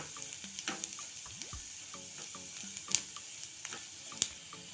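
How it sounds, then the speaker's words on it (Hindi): Turmeric, Kashmiri red chili and coriander powder roast in a pan for a makhana curry, heard as a light crackle with scattered ticks and scrapes of a spoon, plus a couple of sharper metallic taps. "हल्दी पाउडर, कश्मीरी लाल मिर्च पाउडर, धनिया पाउडर। इन सबको भून लेंगे।"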